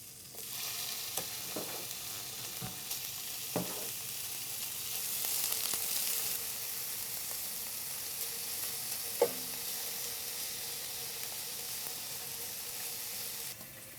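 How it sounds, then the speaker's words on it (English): Small steak pieces sizzle steadily in a hot skillet, a constant broad hiss with occasional pops and a few stirring knocks, close and even throughout with no talking. "so let's put on the steak pieces"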